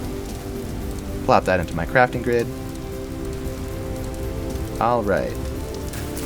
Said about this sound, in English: And it looks like it's raining.